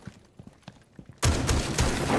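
Gunfire in Rainbow Six Siege: a few faint thuds give way to a sudden, loud burst of rapid close-range shots that keeps rattling steadily to the end.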